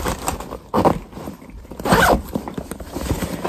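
A zipper on a fishing bag pocket is pulled open in short raspy bursts, close and crisp, with brief pauses between the pulls.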